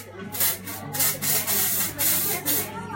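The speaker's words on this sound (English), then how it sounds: "all I'm using here is a little bit of matte texture spray, which is a dry spray" Dry matte texture spray hissing onto hair in repeated short bursts, about five or six quick puffs in a steady rhythm, close and fairly loud with a low hum beneath.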